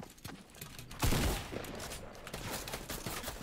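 Gunfire in the video game Fortnite, a rapid string of shots with a loud heavy burst near the start, then continuing quicker fire at a moderate distance, with no talking over it.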